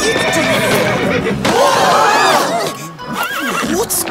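A horse neighs loudly with a long, wavering whinny in an animated Playmobil princess adventure, followed by a second shorter whinny near the end, with other voices and commotion underneath.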